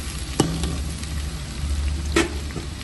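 Three medium onions, finely chopped, frying in oil for a Punjabi-style turnip curry, a steady low sizzle with two sharp clinks of a spoon against the pan, no talking.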